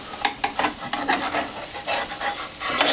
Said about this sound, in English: we can easily use the spatula.